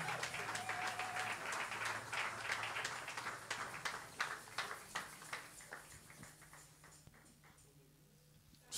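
A church congregation at a French Sunday worship service applauds loudly and steadily at first, the clapping thinning into scattered claps before fading to near quiet at the end.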